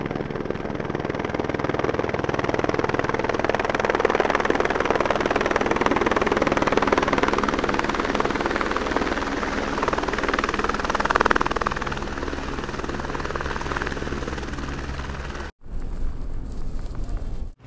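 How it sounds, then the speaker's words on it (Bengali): A helicopter arriving at Gulmarg, Kashmir, sends out a steady, loud rotor and engine roar with a continuous vibrating drone that swells slightly before a brief cut, with no talk over it. "এই হেলিকপ্টার আসছে এই যে।"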